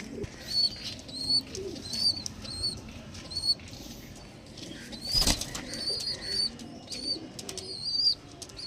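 Andhra Madras pigeons, just released, flap their wings in bursts, with a sharp loud flurry midway, while soft coos and repeated high whistling tones sound close by.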